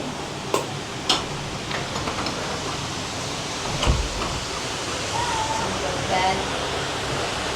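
Steady rushing water from a jungle waterfall pouring into a pool above Dumaguete in the Philippines, a constant broadband wash heard from nearby, broken by a few sharp clicks and a faint bird call.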